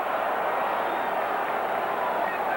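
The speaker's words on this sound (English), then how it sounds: "The crowd reaction you hear," A stadium crowd at a 1984 USFL football game, Houston Gamblers at Michigan Panthers, gives off a steady distant roar of murmuring and reaction, fairly faint and continuous under the broadcast.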